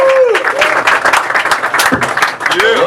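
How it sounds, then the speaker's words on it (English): A comedy club audience claps and cheers loudly for a stand-up comedian taking the stage, a dense, sustained burst of applause with whoops, under an emcee's voice. "Put your hands together for Ryan Schutt."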